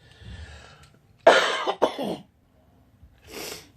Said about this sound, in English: now that I think that coughing fit is over